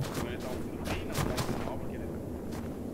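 Rapid bursts of distant video game gunfire pop and crack in quick succession over a muffled, noisy background.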